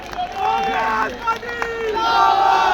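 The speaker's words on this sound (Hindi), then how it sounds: "नारा जोर से लगाइए, ताली जोर से बजाइए" Crowd at a Congress party rally in Delhi shouting slogans together, loud massed voices rising and falling in waves, with a few claps breaking through the chanting.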